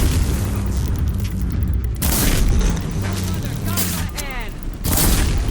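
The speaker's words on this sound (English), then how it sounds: "apparently they're trying to shoot it too" Gunfire and booming blasts from the video game Horizon Zero Dawn, dense and continuous over a loud, rumbling battle backdrop, with several heavy bursts and no clear talking.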